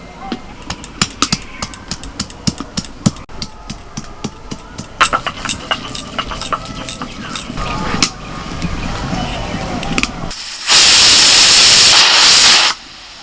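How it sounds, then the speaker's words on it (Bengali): A pressure cooker of lentils on the stove lets out a loud, sustained steam hiss for about two seconds near the end, after a stretch of clattering, tapping kitchen work with some talk. "চারটে সিটি পড়ে গেছে এবার আমি নামিয়ে দিচ্ছি"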